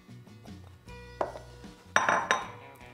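Chili powder dry rub spices are mixed in a bowl, with a few scraping stirs and three or four louder clinks of utensil against the bowl, up close.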